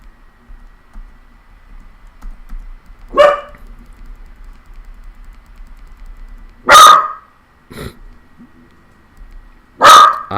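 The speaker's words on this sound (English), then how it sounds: "I apologize for the barking." A dog barks in short, loud single bursts, three or four spaced barks against a quiet background with faint keyboard typing between them.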